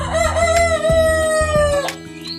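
A rooster crows close by in one long drawn-out call, with laying hens and chicks clucking around it on a poultry farm.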